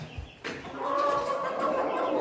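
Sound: roosters clucking while being fed onions

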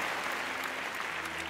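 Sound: audience applause for Noemí at magic show

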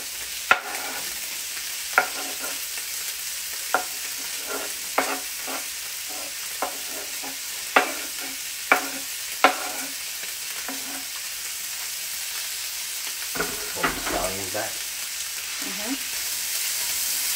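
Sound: sausages and peppers frying and being stirred in a pan

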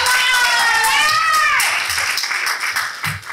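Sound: audience applause

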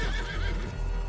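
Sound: horse neighing in video game Red Dead Online

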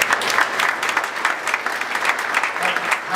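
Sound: audience applause

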